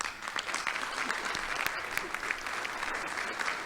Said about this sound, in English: You getting applause? That's nice.